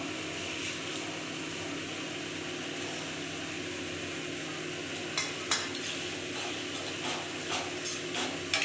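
Fried potatoes are stirred into a bubbling paneer curry gravy with curry leaves, a constant close simmer and sizzle running throughout, with a few sharp clinks of a utensil against the pan near the end.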